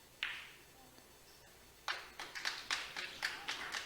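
Spectators at a snooker exhibition match clapping in appreciation of a shot: one sharp isolated clap, a pause, then a run of several quick separate claps, fairly faint and close.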